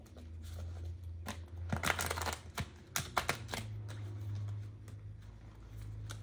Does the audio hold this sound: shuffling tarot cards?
yes